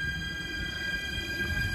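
A train passes with a steady, loud rumble and a faint high ringing squeal from the wheels on the rails. The sound is continuous and even throughout, and no voices are heard.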